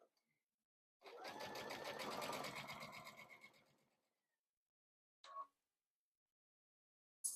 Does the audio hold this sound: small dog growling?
no